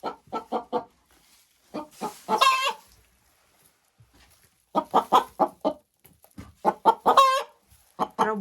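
A hen clucking in a short, repeated run of calls, close by and clear, outdoors on a winter farm with no one talking.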